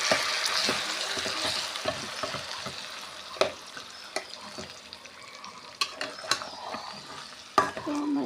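Browned onions frying in a pan are stirred, with a continuous sizzle broken by irregular scraping and clacking strokes of the utensil, close by and with no talk.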